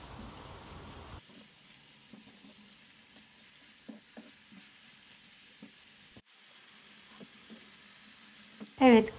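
Minced meat, about 100 grams, sizzles quietly with chopped onions in a frying pan, a faint continuous crackle broken by occasional stirring clicks, with a brief louder clatter at the very end.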